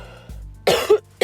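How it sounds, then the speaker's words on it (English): A person coughs from allergies, two short harsh bursts close to the mic, the second following the first after a brief pause. "I'm gonna cough because I'm suffering from"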